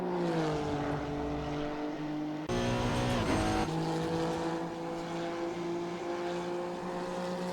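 A Honda NSX EVO GT3 race car laps Monza in a racing game, its engine droning loud and steady, pitch falling through a gear change, then a brief roar and tyre scrub before settling into a sustained high whine.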